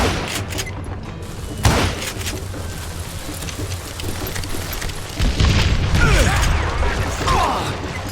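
Gunfire in the Western shooter Call of Juarez: Gunslinger, a few sharp cracks with one standout shot early and a burst of rapid shots later, over a continuous mechanical rumble with faint voices.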